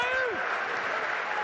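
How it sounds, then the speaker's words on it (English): A crowd at a Doncaster versus Oldham rugby league play-off match in League One applauds in a steady, broad wash of clapping that holds for the whole moment, with a commentator talking over it. "The crowd show their appreciation."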